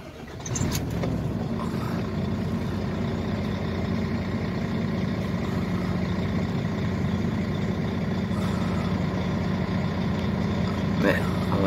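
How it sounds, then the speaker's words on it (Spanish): Car engines idle and rumble steadily as vehicles roll in, a continuous low drone throughout with people talking over it. "Están entrando los coches."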